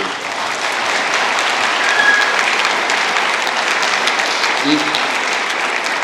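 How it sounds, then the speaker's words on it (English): Sustained audience applause at a community event in Marion County, a dense steady wash of many hands clapping at fairly close range, holding an even level throughout with no talk over it. "please, another round of applause for everyone"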